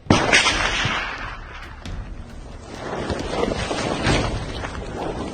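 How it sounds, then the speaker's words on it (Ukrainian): Sniper fire in combat cracks out as sharp, scattered reports. Heavy wind buffets the microphone throughout, and a few distinct gunshots stand out over the roar. "Слышь, а у них снайпер работает."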